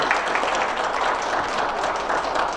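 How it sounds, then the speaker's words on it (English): An audience at the 17th conference of the South Asian American Labor Alliance claps in a dense, steady round of applause lasting the whole moment, with no voices on top. "Ladies and gentlemen, let's give a clap to our brother"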